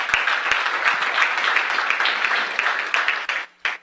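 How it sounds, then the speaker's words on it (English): Veterans applauding at a Veterans Day celebration, a full room of steady clapping that thins out and fades near the end, with a few isolated claps trailing off. "So give yourself a round of applause."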